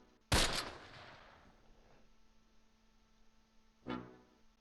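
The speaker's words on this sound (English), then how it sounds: "Can we get some machine gun fire on them so I can actually target them with the mortars?" Machine gun bursts in the World War II video game Close Combat: a sharp, loud opening burst that rings out and fades, then a second, softer burst a few seconds later over a quiet hum.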